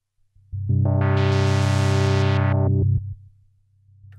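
A loud, buzzy sample-and-hold synthesizer tone from a sine wave under a very slow clock swells in for about two seconds with a harsh, stepped and jagged timbre, then cuts down to a low hum.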